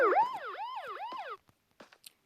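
Police car siren wailing in rapid rising and falling sweeps, loud and near for about a second and a half, then cutting off, followed by a few faint scattered clicks.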